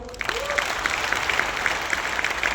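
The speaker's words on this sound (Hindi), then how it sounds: "ये ऐसी महिलाएं, एक बार इनके लिए तालियां बजा दो।" Steady applause from a large audience applauding women, dense clapping sustained throughout, with a brief whistle-like tone near the start.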